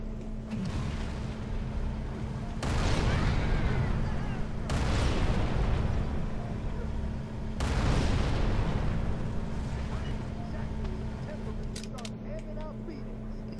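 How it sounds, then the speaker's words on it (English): In Halo 3: ODST, three or four heavy booming shots go off at spaced intervals. Each is followed by a rumbling tail over a steady low game hum. "we could probably just fire a couple rounds up there"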